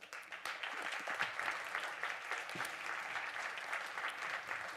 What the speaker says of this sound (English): So let's give them a warm applause